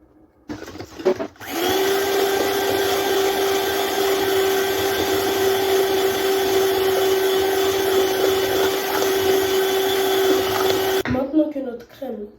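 Electric mixer whipping cream with icing sugar for M&M's ice cream, a steady high motor whine running loud and continuous for about ten seconds before cutting off, with brief voice at the start and end.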